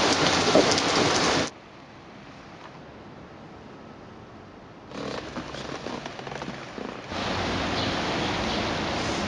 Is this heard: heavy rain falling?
yes